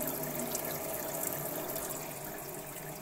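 A kitten splashes and plays in a small amount of water, giving a steady, close wash of running, splashing water with no pauses and no voices.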